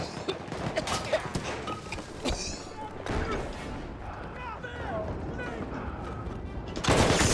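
Machine gun fire in the World War I shooter Battlefield 1: bursts of rapid gunshots mixed with distant battle noise, a voice talking over the fighting, and a loud burst near the end.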